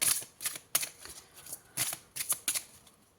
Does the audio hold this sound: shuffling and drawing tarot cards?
yes